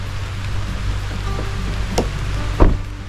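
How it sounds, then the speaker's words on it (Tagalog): Heavy rain falls steadily outdoors in the afternoon, a constant hiss of droplets with a few sharper knocks and bumps close by; no one speaks. "Yan ay malakas na ulan."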